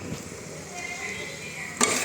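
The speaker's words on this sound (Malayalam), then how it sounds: "ഇളക്കിക്കൊണ്ടിരിക്കുകയാണ് ഡയറക്ടറെ." Chicken curry masala being stirred in a pan gives a soft continuous sizzle with light scraping, ending in a brief louder clatter.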